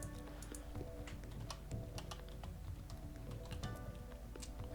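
Computer keyboard typing, quiet scattered key clicks in short uneven bursts over a low steady background hum, with no speech.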